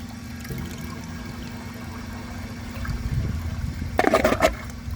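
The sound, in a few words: Vortens Vienna toilet flushing during a flush test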